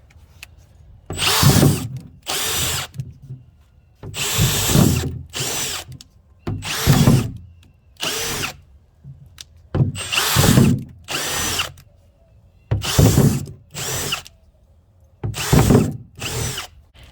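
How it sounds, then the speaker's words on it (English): A power drill whirs in about a dozen short bursts, each a second or so long, separated by brief pauses as it bites through plastic. "I'm going to drill these holes into the bottom of the container."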